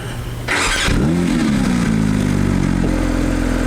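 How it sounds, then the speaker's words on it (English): A Porsche GT3 Touring engine cranks briefly on a cold start, then catches and flares into a loud rev that settles into a high, steady idle, heard close and alone. "All right, cold start."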